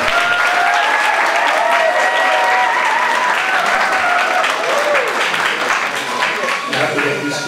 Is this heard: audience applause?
yes